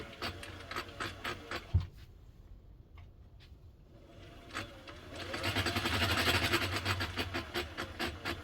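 A Singer 404 sewing machine stitches in quick rhythmic bursts, starting and stopping with a steady mechanical patter, closely miked and fairly quiet.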